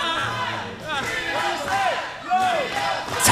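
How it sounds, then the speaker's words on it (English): A wrestling arena crowd at a WWN Proving Ground show roars and yells for Baby Keef, a dense, loud wall of cheering and shouting voices with rising whoops throughout. "Entire WWN faithful are cheering for Baby Keef"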